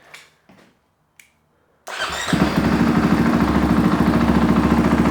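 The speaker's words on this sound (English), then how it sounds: "So we're going to turn on the bike" A motorcycle engine cranks and fires up, settling into a loud, steady, close-up idle with a rumbling pulse that runs to the end after a few faint knocks at the start.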